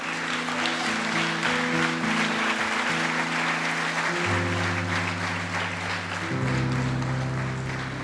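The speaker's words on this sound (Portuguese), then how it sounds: "Se você crê, aplaude ao Senhor." A church congregation claps during a worship service, a continuous wash of applause under sustained organ-like musical tones that shift pitch partway through.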